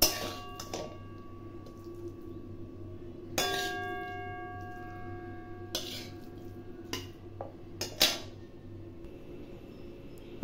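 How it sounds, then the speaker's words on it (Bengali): Fried red amaranth greens being lifted out of a pan with a spatula, giving occasional scrapes and metal clinks over a steady low kitchen hum. "আমাদের লাল শাক ভাজাটা হয়ে গেছে, এবার আমরা তুলে নিচ্ছি।"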